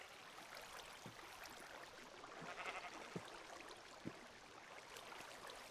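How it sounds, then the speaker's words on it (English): Sheep bleating in Minecraft, a few faint, short bleats spread over a constant wash of rushing water and ambient game sound. "Oh, sheep's come to join us."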